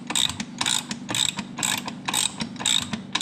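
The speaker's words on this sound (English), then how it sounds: "I'm going to go ahead and put a box end on the nut here" A box-end wrench ratchets a nut on a Can-Am Renegade A-arm guard in a steady run of about eight crisp, close clicking strokes, loud and alone.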